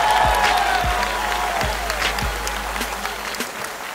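Audience applause at a live stage show with jury scoring, a steady wash of dense clapping that holds throughout, loud and close, with no voices over it.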